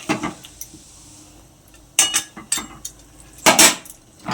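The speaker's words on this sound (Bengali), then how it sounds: "এখানে আমি তরকারিটা কষছি ভালো করে" Curry with spices, salt, turmeric and water is stirred and sautéed in a metal pan. A utensil scrapes and clanks against the pan in short, sharp bursts separated by quiet pauses.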